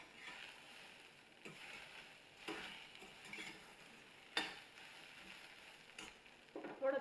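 Spiced okra (bhindi) frying in oil in a pan and being stirred, a steady close sizzle broken by scraping strokes and clatters of a spoon against the pan at irregular intervals.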